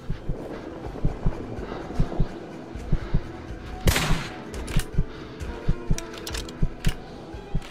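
Rapid gunfire in the survival video game Kona, with steady repeated sharp shots in a quick rhythm and one louder burst midway, continuous and prominent throughout.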